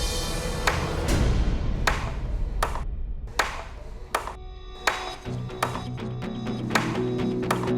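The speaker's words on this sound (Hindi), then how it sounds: "कौन है जो इतनी खटखट खटखट कर रहा है?" Sharp, repeated knocks or taps on a door or wooden surface, about one each second, sounding loud and near inside a home where wedding preparations are going on, with a low humming tone entering partway through.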